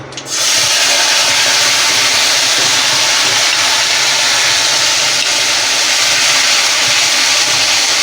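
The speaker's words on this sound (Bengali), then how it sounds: "আমি দিয়ে দেবো এবারে টমেটো বাটাটা।" Tomato paste dropped into hot oil erupts into a loud, steady sizzling hiss almost at once, holding evenly for several seconds with no voices.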